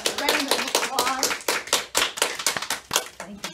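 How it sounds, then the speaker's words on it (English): A small audience applauding after a county budget speech, sparse, uneven hand claps close by that thin out toward the end, with a voice briefly heard among them. "Let's give Nancy a big round of applause."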